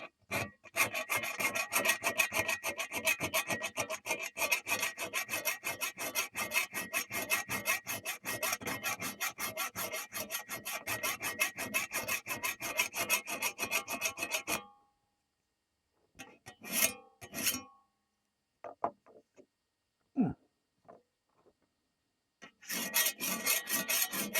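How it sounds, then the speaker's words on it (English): Rapid, steady rasping strokes of a chainsaw file on a metal brushcutter blade run continuously, then stop, followed by a few scattered clicks and scrapes before the filing resumes. "it really doesn't matter that I'm basically using a chainsaw file"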